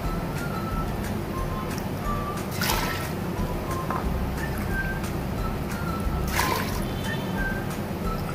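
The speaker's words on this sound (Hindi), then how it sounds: "इसके अंदर दो तीन प्याली साइज़ की पानी डालूंगी।" Water poured into black masoor lentils in a pressure cooker pot, a steady trickling and sloshing with soft drips and a couple of brief louder splashes, close and continuous with no talking.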